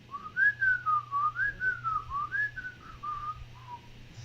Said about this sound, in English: can somebody whistle something for me?